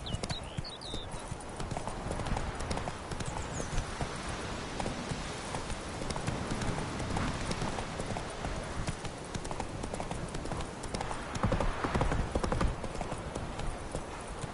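A horse gallops in a video game, with steady rapid hoofbeat clip-clops running continuously throughout and a brief whinny near the start.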